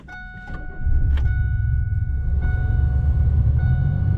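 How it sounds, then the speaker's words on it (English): A car engine misfiring on one cylinder runs with a rough, uneven low rumble that shakes the vehicle. Brief chime-like tones and clicks come first, then the heavy idle settles in close and loud. "we should see the cylinder misfire switch to cylinder 2 instead of cylinder 4"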